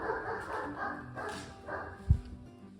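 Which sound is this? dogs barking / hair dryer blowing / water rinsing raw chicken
dogs barking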